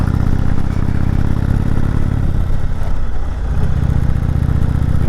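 A motorcycle engine runs steadily at close range, labouring under load in second gear on the steep, bumpy road up Mt. Washington, with rattling clatter throughout and no talk.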